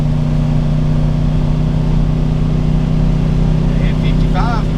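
A 2014 Coachmen Concord 300TS Class C motorhome engine climbing a hill drones steadily and loudly from inside the cab, with constant road rumble and a few faint tones near the end.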